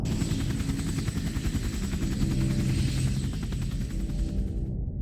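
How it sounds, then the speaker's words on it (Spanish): A steady, droning helicopter rumble with rhythmic rotor chop, heard at a distance at night and continuing unbroken before cutting off near the end. "el ruido de un helicóptero empezó a escucharse a la lejanía."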